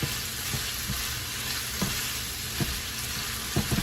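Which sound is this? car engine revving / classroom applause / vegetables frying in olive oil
vegetables frying in olive oil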